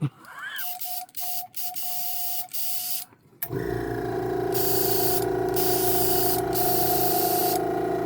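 A Harbor Freight Black Widow dual air compressor makes a loud, steady mechanical hiss and rumble with an odd noise, preceded by short bursts of spraying air and a faint whine, with no one talking.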